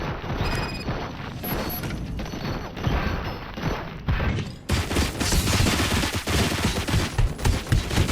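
Loud, dense gunfire rattles without pause in RoboCop: Rogue City, shots overlapping with crashes and mechanical clatter, and no voices over it.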